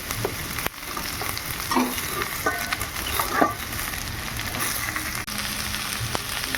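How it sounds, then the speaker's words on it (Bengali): Eggplant pieces added to frying potatoes in a pan, with a constant close sizzle and intermittent scraping and clinking as the spatula stirs them around. "বেগুনগুলো দিয়ে আরেকটু ভেজে নেব"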